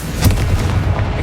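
Spell blast from the Confringo fire curse in the Hogwarts Legacy video game, a loud booming burst with a sharp onset followed by a sustained low rumble lasting about a second, heard alone.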